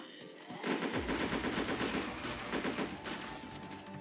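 Rapid automatic gunfire from the Roblox zombie shooter game Zombie Uprising starts after a short pause. It becomes a dense, continuous rattle that stays loud and steady for several seconds, with no talking.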